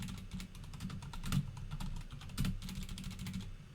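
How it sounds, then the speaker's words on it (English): Someone types steadily on a computer keyboard while taking notes during an exam review session, a quiet, continuous clatter of keys with a couple of slightly louder taps. "I'm typing good notes in the chart here."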